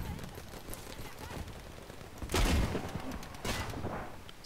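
Gunfire in the video game Battlefield V on the Hamada map, with scattered shots under a busy battle bed and two louder bursts standing out, a voice faintly present in the mix.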